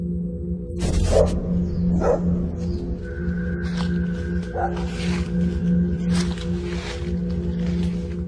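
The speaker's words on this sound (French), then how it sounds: "Des chiens de garde." Guard dogs bark at an abandoned school, several sharp barks scattered over a steady low hum, moderately distant, with no talk.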